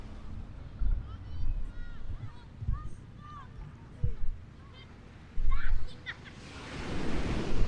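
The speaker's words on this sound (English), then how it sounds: "listening to the waves crash" Ocean waves wash onto a beach in Lisbon, Portugal, in an uneven rumbling hiss with wind buffeting the microphone, rising into a louder surge near the end, while voices talk over it.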